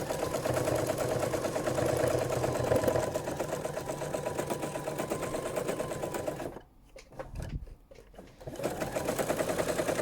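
An embroidery sewing machine stitches leaves onto a Bohemian spring quilt block, a fast, steady mechanical whir with rapid needle ticks that briefly stops and then resumes, close and continuous.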